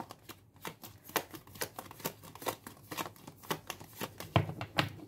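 Tarot cards being shuffled by hand in a steady run of crisp riffling bursts and soft slaps, close and fairly loud, with no voice over them.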